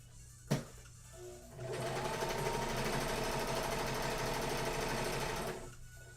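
A sewing machine stitches an Among Us plushie, starting after a sharp click and then running in one steady, even, fast-needled burst for several seconds before stopping.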